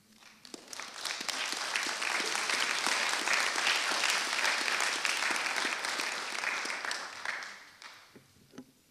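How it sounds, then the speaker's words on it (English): Sustained audience applause in a hall for former Parliamentary Budget Officer Kevin Page in Regina, dense steady clapping swelling and holding for several seconds before tapering off near the end. "They were clapping for you."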